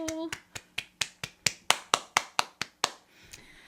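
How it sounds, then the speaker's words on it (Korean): One pair of hands claps about a dozen times in a quick, steady rhythm, close and crisp, right after a short burst of speech, welcoming a guest at a Korean talk on artists. "박수!"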